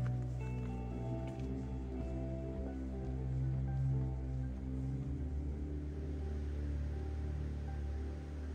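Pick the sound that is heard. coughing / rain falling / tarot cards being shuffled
rain falling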